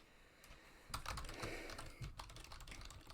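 Quiet typing on a computer keyboard at a streamer's desk, soft irregular key clicks in short bursts, faint and somewhat distant, with no talk.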